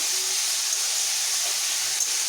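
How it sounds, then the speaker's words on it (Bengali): A fig (dumur) dish with milk, salt and turmeric frying in a pan gives off a continuous, even hiss of steam and sizzle, alone with no talking. "এইভাবে কিছুক্ষণ ভেজে নেব"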